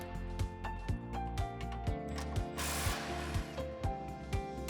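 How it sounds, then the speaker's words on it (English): A ratchet with a 21mm socket rapidly clicking while removing the three nuts from the transmission support bracket under a Jeep JL/JT, with repeated close, sharp bursts of pawl clicks and metallic clanks, no talking. "Remove the three nuts from the transmission support bracket using a 21mm socket"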